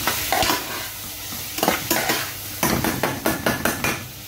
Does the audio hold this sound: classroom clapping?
no